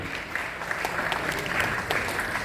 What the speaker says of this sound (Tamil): நீங்களும் நான் கைத்தட்டி வாழ்த்துகிறேன்